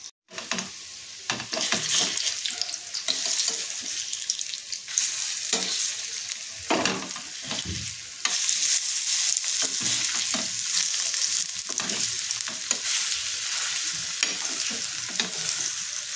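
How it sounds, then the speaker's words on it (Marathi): Vegetable cutlets shallow-frying in oil on a flat tawa, a bright, loud sizzle that stays steady apart from bursts and dips as pieces are set down and turned with a spatula, with no one talking. "तेल टाकून घेतलेले आहे तव्यामध्ये आणि आपल्याला त्याच्यामध्ये असे कटलेट ठेवायचे आहेत।"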